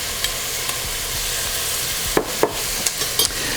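Garlic and sun-dried tomatoes sizzle in a pot under a steady broad hiss, while a spoon scrapes and stirs in several sharp strokes toward the end, close and clear with no voices.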